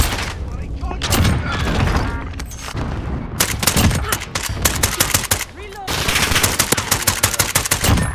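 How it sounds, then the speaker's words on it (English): Video game gunfire shooting through walls: dense bursts of rapid automatic fire and loud cracking shots, broken by short pauses, with excited voices talking over the action. "he's really shooting through the walls?"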